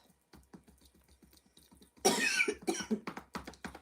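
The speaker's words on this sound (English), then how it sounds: "you will cough because you are clearing naturally out the lungs" A burst of hard, close coughing after a quiet stretch during a qigong session, a harsh fit followed by several shorter coughs and throat clearing.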